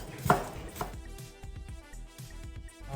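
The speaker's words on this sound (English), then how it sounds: "Chop some parsley to just garnish our food." Fresh garden parsley is chopped on a cutting board with a knife, producing a run of quick, close, crisp taps in an uneven rhythm after one louder opening knock.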